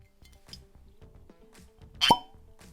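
A cork pops out of an Auchentoshan Three Wood whisky bottle, a single sharp close plop near the end after a few quiet handling rustles and faint clinks.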